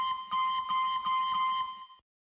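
An ocarina sample plays a sustained pure tone at steady pitch over soft, rhythmic pulsing accompaniment for about two seconds, then stops cleanly into silence.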